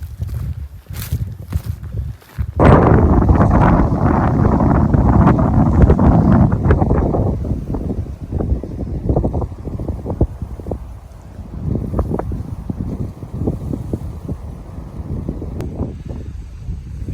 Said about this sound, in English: It's windy, it's breezy.